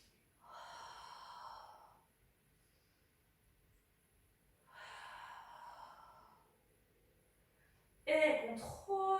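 Slow, audible breaths during a Pilates exercise, two long drawn-out exhalations with a quiet pause between, close and alone, followed by a louder sharp sound at the end.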